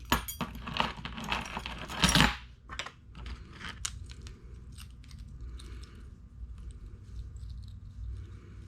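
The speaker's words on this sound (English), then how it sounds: "what I'm going to do next is just hang some keys from it" Metal keys jangling as they are hung on a laser-engraved custom key holder, a loud burst of clinking early on followed by lighter scattered jingles and taps that fade toward the end.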